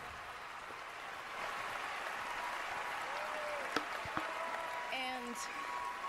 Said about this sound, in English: crowd clapping along.